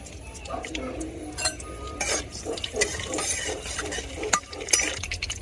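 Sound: bay leaves, cardamom, cinnamon and cumin frying in oil in a pan

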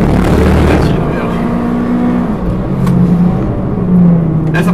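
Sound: Mitsubishi Lancer Evo X engine on race track

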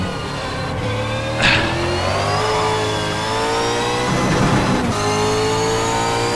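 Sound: V8 supercar engine in racing simulator video game

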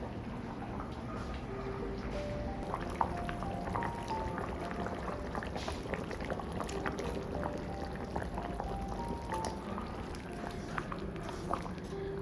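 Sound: Bengali vegetable curry with bori simmering

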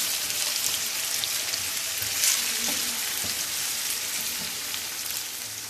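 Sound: food frying in a pan

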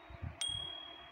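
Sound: bell sound effect from an animation app

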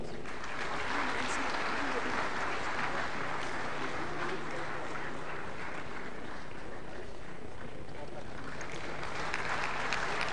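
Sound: audience applause for award winners

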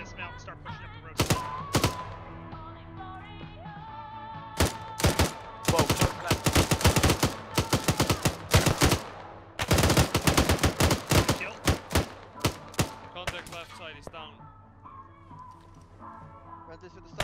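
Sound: gunfire in video game Arma 3

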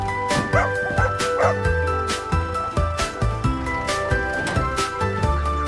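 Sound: dog barking

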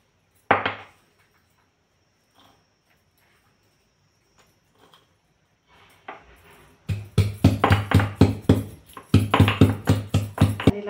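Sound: chopping garlic finely for tempering

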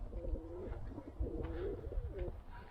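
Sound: Van pigeons cooing in a loft

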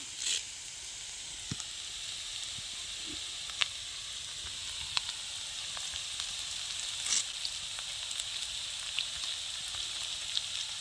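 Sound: onions and curry leaves frying in oil

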